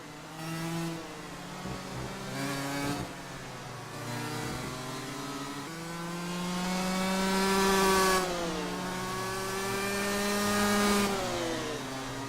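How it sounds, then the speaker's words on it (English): A Simraceway race car engine from a racing video game whines through the gears, its pitch climbing and dropping at each shift. The buzzing tone is steady and fairly close, with no voices over it. "as he brings that gorgeous Simraceway car around the opening corner once again"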